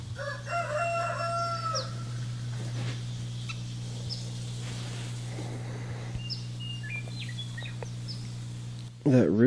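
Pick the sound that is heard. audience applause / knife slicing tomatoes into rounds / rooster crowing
rooster crowing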